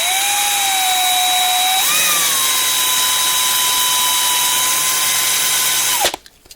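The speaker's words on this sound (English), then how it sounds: "let me drill out the rest of this" A power drill boring into a 1/64 NASCAR diecast car, with a loud, steady high-pitched motor whine. The whine dips briefly in pitch under load, holds steady, then cuts off abruptly near the end.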